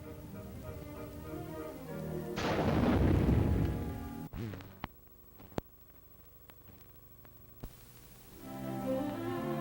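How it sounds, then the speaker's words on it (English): A 57 recoilless rifle firing at a target in Alaska, a heavy rumbling blast that swells and fades, followed by a few sharp distant cracks, over orchestral music. "Finally, the 57 recoilless rifle blasts away at the target."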